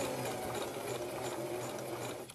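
A sewing machine stitches stretchy fabric for a baby hat, running in a steady, continuous mechanical whir at close range for the whole moment, with no talking over it.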